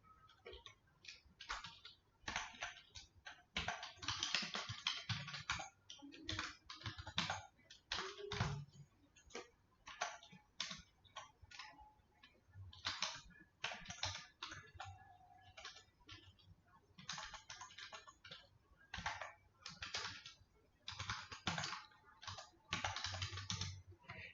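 Rapid, irregular keystrokes on a computer keyboard while entering text into a spreadsheet cell, close and fairly quiet, coming in bursts with short pauses.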